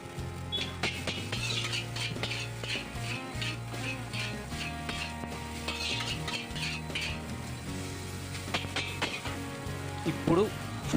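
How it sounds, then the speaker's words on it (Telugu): Vegetables and boiled noodles are stir-fried for chicken noodles, with a spatula scraping and clinking against the pan in quick rhythmic strokes over a steady sizzle, close up, with background music. "వెజిటేబుల్స్ మంచిగా ఫ్రై అయ్యండి. బాయిల్ చేసుకున్న నూడిల్స్ని వేసుకుందాం."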